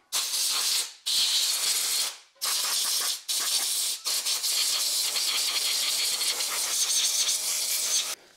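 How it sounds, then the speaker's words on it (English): A cheap, barely working air compressor blows dust off parts in a workshop with a loud, steady hiss of air, broken by three or four brief pauses as the trigger is released and pressed again, close and continuous. "Maybe we'll blow that off really quick with our slightly working air compressor."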